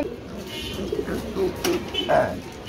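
Pigeons coo at a pigeon farm, several soft, throaty calls close by, spaced irregularly over a faint background murmur.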